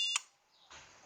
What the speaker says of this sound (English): anytime when you turn it off, short beep or longer beep